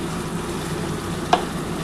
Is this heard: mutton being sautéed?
yes